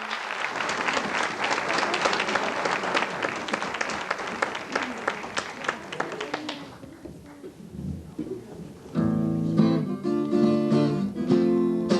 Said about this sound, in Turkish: Alkışlar lütfen.